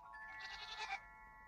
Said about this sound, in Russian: Да, коза!